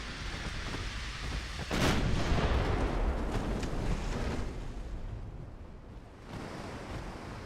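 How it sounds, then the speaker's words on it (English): An ammunition detonation blows up a warship in a naval strategy game: a sudden deep rumbling blast that swells, then rolls on as a long, dull roar beneath wave-like noise. "Ammo detonation."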